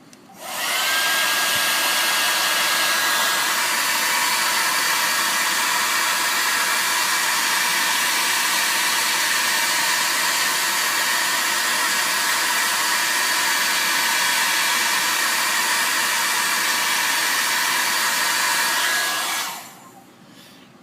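Hair dryer heating floor polish on a rusted scale model, a loud steady blowing roar that starts abruptly, runs unbroken for about nineteen seconds and then cuts off.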